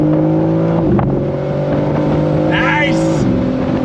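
A 2024 BMW M4 Competition pulls hard in third gear from about 4,000 RPM, its engine note a loud, steady drone with rising harmonics and a brief dip near the first second, heard close from inside the car with a voice talking over it.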